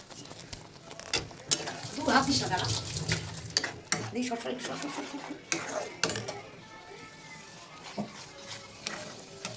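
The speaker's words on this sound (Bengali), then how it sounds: "দারচিনি লবঙ্গ এলাচি তেজপাতা ফোড়ন দিয়ে আমরা মশলাটাকে দিয়ে দিচ্ছি, দিয়ে এবার একটু নাড়াচাড়া করবো।" Whole spices (cinnamon, cloves, cardamom and bay leaf) fry in oil in a pan while a spatula stirs, giving repeated metallic scrapes and clinks over a light sizzle, with voices talking at times.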